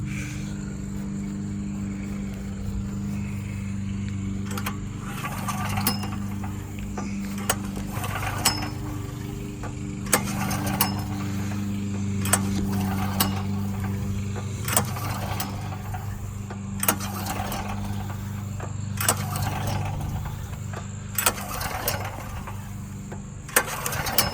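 A Firman H05751 dual-fuel 5700-watt generator engine is turned over repeatedly to work Lucas oil through the dry cylinder, giving a steady low mechanical hum broken by regular sharp clicks and pull strokes, with no speech.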